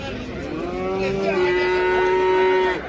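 A single long, loud cow moo rising and holding steady, close by, over a low murmur of a busy outdoor livestock market in Shymkent, Kazakhstan.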